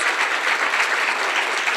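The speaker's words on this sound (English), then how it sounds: "I want to give the young women a round of applause" Dense, even applause from a conference audience, a continuous wash of many hands clapping at close range with no voices standing out.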